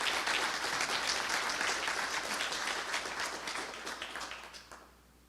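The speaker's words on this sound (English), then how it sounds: "Quick round of applause for them," An audience at ATmosphereConf Seattle 2025 claps in a brief, full burst of applause that holds steady, then gradually fades and dies away toward the end.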